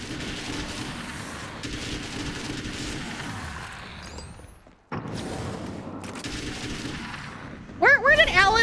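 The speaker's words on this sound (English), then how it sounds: "Where did Alan learn how to, shoot this assault rifle?" Assault rifle fire in the video game Alan Wake's American Nightmare: dense, rapid bursts of shots crackle loudly, broken by a brief near-silent gap, then resume with sharper ringing effects at the end.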